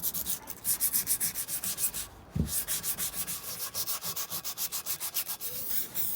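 Rusty edges of a brake disc are hand-sanded during a rear suspension refresh, giving steady rhythmic scraping strokes close up with a brief break near the middle, and no talking.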